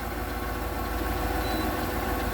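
A 1997 Ford E-150 Econoline van's 5.4L V8 idles with a steady, low throbbing rumble, constant and close, with no voices.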